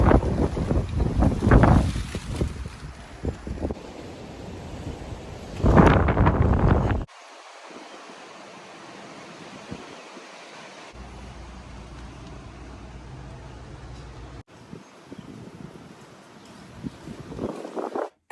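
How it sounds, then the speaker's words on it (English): Strong wind buffets the microphone outdoors in loud, roaring gusts, heaviest in the first seven seconds, then settling into a steadier, lighter rush with a few sharper blasts near the end. "It's just so windy right now that you're not gonna be able to hear me."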